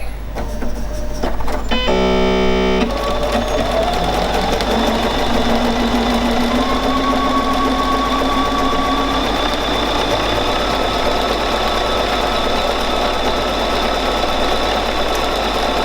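A Bernina 770QE sewing machine runs steadily through decorative stitches, a loud continuous motor whir with a rapid needle chatter that holds throughout after a brief burst of mechanical clatter near the start.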